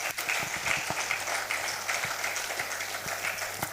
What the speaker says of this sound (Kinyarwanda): Tukomeze dukoma amashyi rwose tumwakira ko atambuka nyine